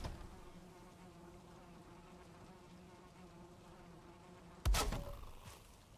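Bees in the video game Valheim give a low, steady buzzing drone that stays faint and close throughout, with a sudden sharp thump near the end and no talking.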